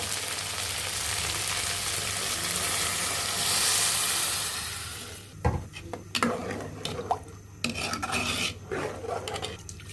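Ghugni, a spiced pea curry with potatoes, fries in a pan: a loud continuous sizzle at first, then the spoon scrapes and clinks against the pan in short irregular bursts as it is stirred, with no voices.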